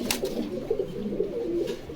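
Pigeons at a breeding farm in Bogura coo softly in a low, steady murmur with overlapping calls, alongside a few brief brighter chirps and no talking.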